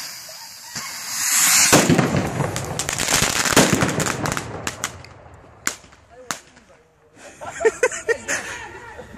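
New Year firecrackers and fireworks crackle and pop in rapid, dense bursts, followed by scattered sharp bangs nearby and some farther off, with people talking faintly in between.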